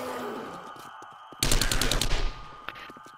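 An SMG in the zombie survival game 7 Days to Die rattles off a dense rapid-fire burst lasting about a second, sharply louder than the quiet background before and after, followed by a single later shot.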